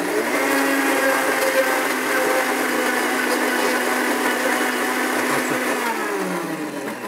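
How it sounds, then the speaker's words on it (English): A blender whirs steadily while mixing a thick tempura-style batter, a loud continuous motor drone that holds its pitch and then winds down near the end. "Keep on blending."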